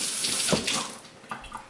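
Tap water runs steadily into a sink while cut potatoes are rinsed, a close, continuous splashing with a few brief spatters and no talking.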